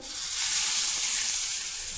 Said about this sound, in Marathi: ही फोडणी ह्या चटणीवर घालूया